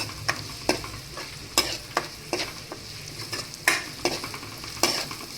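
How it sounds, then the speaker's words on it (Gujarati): Sliced onions fry in a pan while being stirred for chhole, a soft, continuous sizzle broken by repeated scraping strokes of a spoon against the pan at irregular intervals. "ત્યાર પછી આપણે આ ડુંગળીને એડ કરી દઈશું અને હવે ડુંગળીને આપણે થોડી વાર માટે ચડવા દઈશું"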